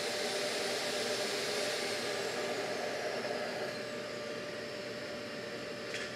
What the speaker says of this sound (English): Pause for a little vacuum action.